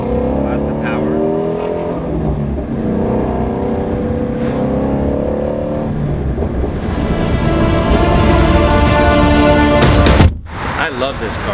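A Ferrari 550 engine revs hard and climbs through quick, short gear shifts, its loud harmonic roar rising and dropping with each change, then sharply cutting off near the end.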